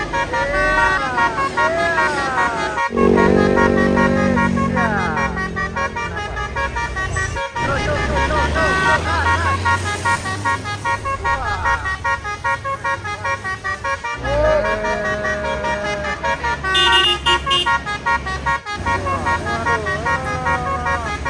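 A truck's telolet horn plays loud, melodic multi-tone honking tunes on an Indonesian road, bursts repeating over engine and traffic noise while people talk and cheer nearby.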